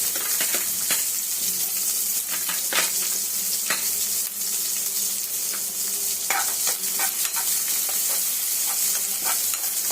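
Chopped onion with chilli sizzles steadily in a hot pan while a spoon scrapes and stirs in irregular clinks, close and clear over a constant frying hiss.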